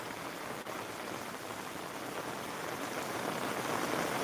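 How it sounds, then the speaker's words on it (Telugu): Rainwater flows in a steady broadband rush along a route to a Shiva temple during heavy rain, a continuous even wash of water heard alone with no break. "మనకు వాటర్ ఫ్లోయింగ్ చూడండి ఫ్రెండ్స్"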